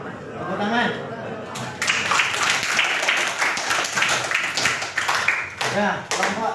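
A classroom group claps after a presentation, quick dense clapping from many hands that starts abruptly after a voice and continues steadily, with talking at the start and end.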